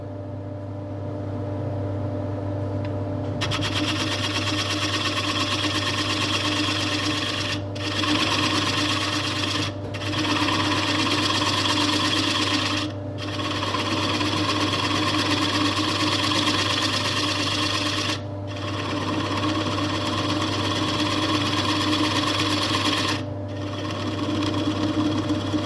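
A wood lathe turns a bowl base at around 500 rpm. The steady, loud machine hum runs continuously, interrupted by a few brief pauses where the tool lifts off the workpiece.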